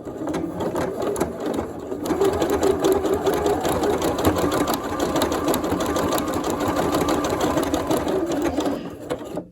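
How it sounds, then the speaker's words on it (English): A domestic sewing machine stitches decorative patterns in light blue thread on a decorated pencil case, its fast mechanical whirring and rattling needle running continuously and close up at a moderate, even pace, with no voices. "I've chosen a light blue thread to start off with, and I'm going to start to sew."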